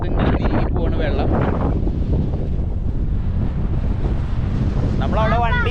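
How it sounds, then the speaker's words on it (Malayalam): Strong wind at a beach roars steadily across the microphone, with a voice talking briefly near the start and again at the end. "നല്ല കാറ്റുണ്ട്."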